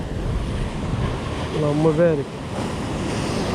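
Sea surf and wind roar steadily on the shore at Oualidia during a fishing outing, loud and continuous, with someone speaking briefly over the wash.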